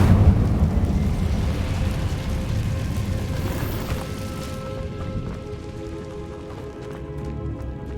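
A burst of flame from the Incendio fire spell in Hogwarts Legacy, cast inside an abandoned cave, roars and crackles loudly at first, then fades into a softer rumble with game music beneath.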